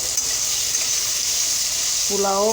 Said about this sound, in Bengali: আলু আর গাজরটাকে সুন্দর করে ভেজে নেব।